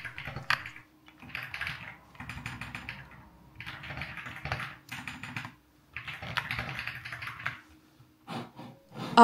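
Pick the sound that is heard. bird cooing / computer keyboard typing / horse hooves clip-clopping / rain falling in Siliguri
computer keyboard typing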